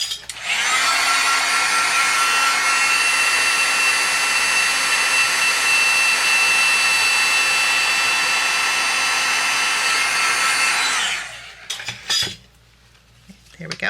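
A heat tool blows a steady, loud whirring roar for about eleven seconds while melting clear embossing powder on a handmade card, then switches off, leaving brief quiet handling sounds.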